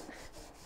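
A wet polishing pad scrubs car chrome with a soft, continuous rubbing that is faint and close, and no one speaks.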